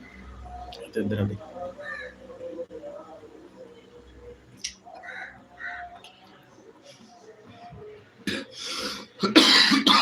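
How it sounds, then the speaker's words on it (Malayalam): A person coughs a few times at close range, harsh bursts between quieter talk, with a louder cough cluster near the end. "സോറി ചുമ അടിച്ചു എനിക്ക്"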